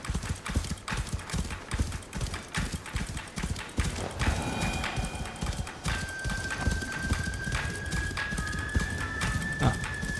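Steady clip-clop of horse hooves in a video game, a fast even rhythm close up and continuous throughout, with a faint tonal whine rising in the background.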